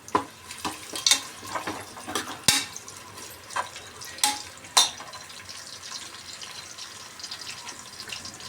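Whole spices and chopped onion fry in hot oil for a chicken biryani base, with a steady soft sizzle broken by a few sharper crackles and stirring scrapes, no voices.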